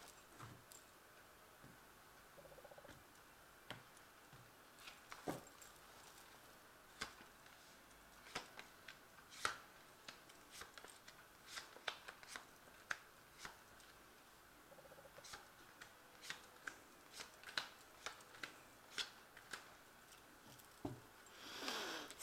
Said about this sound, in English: I'm just going to draw some cards